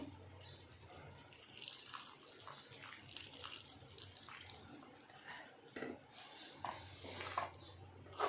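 Chickpea cooking water poured into a pan of chhole, a soft continuous trickle and splash that runs throughout, fairly quiet and close, with a few brief sharper splashes near the end.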